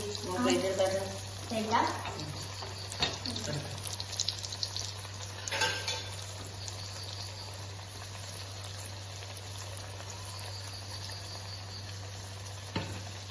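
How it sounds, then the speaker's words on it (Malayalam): Banana fritters deep-frying in hot oil, a steady soft sizzle with a low hum, broken by occasional clinks and stirring bursts near the start and a louder knock near the end. "നമ്മുടെ പഴം ഇവിടെ നല്ലോണം പൊരിഞ്ഞ് വന്നിട്ടുണ്ട്."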